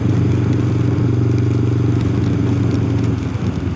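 A motorcycle ridden on gentle, soft throttle in a higher gear, its engine giving a steady, even drone with low rumble and some clatter, loud and constant throughout with no voices.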